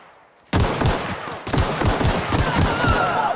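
Repeated gunfire in The Outer Worlds, a loud sustained barrage of rapid shots that bursts in suddenly after a quiet moment and keeps pounding, with a brief break midway.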